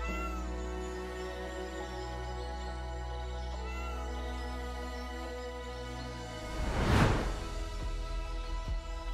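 Domestic cats meowing on a Greek island: a sustained, fairly loud meow with tonal harmonics over steady background music or ambience, rising to one strong, brief cry near the end.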